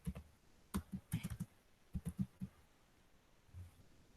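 Keys typed on a computer keyboard to enter a MongoDB shell command, a handful of soft, close, irregular clicks in two quick clusters, then quiet.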